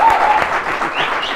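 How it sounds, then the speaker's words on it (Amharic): Warm applause from a studio audience fills the space, loud and continuous, with dense clapping that eases slightly partway through. "ሞቅ ያለ ጭብጨባ ተቸላለ"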